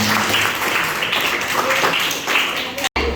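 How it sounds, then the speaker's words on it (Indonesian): Dense clapping from a crowd fills the whole stretch, loud and continuous, with voices mixed in underneath. "tepuk tangan kalau Padil"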